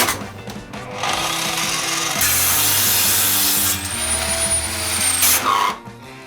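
GRAND circular saw cutting through wood while deliberately pushed under heavy load, a loud sustained rasping whine with a rising high tone that strains and slows briefly, then the motor runs on before cutting off.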